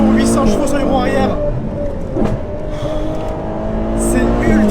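A Ferrari 812 GTS convertible with an 800-horsepower rear-drive V12 sings as it accelerates, a loud sustained engine tone climbing and shifting through the gears, with someone talking excitedly over it.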